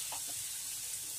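Tomatoes being stirred as they fry in a pan, a steady soft sizzle with a couple of faint scraping strokes near the start, no talk.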